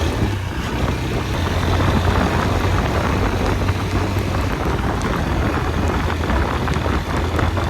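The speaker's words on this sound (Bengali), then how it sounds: "এই বৃষ্টি মনে হয়" Rain pours during a motorcycle ride on the road from Kolkata to Saktigarh, a loud, dense hiss mixed with a low engine and road rumble that holds steady throughout, with no talk.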